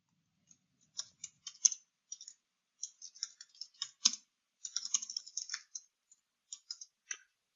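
Keys on a computer keyboard tapped in quick irregular clusters with brief gaps, crisp and close in an otherwise silent room.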